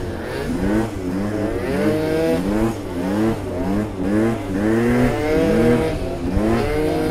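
Two boosted scooters and a 70cc Aerox revving in a wheelie battle, a loud rasping drone that rises and falls in repeated surges, several engines overlapping close by.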